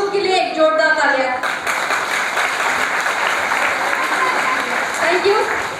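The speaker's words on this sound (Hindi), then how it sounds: "सबसे पहले तो आप सारे लोगों के लिए एक जोरदार तालियां" Someone speaks briefly, then an audience at a Safe Shop leadership event breaks into loud, sustained applause that fills the hall.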